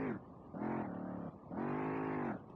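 A Toyota SC300 with a giant exhaust drifts in the racing game SLRR, its engine revving in three rising pulls with short lifts between them, loud and close with a throaty harmonic drone.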